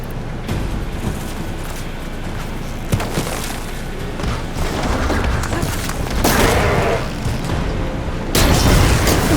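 Video game explosions in Horizon Forbidden West: loud booming blasts and rumbling bursts run almost without a break, layered into a dense, roaring battle mix.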